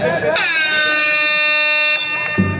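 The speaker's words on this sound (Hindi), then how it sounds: "वो भोपू की आवाज है" A loud, steady horn blares in a sustained tone for about two seconds over crowd noise at a kabaddi semifinal match, then cuts off.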